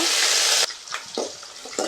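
Shallots go into hot oil with mustard seeds and dried red chillies while cooking drumstick sambar, first with a loud steady sizzle that then breaks into shorter bursts of crackling and stirring.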